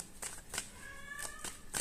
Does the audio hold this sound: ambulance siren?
no